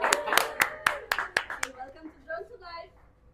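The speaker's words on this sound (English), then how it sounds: "Give them a round of applause, come on." Several sharp, evenly spaced hand claps close by backstage at a Cirque du Soleil show, thinning out as people start talking over the end.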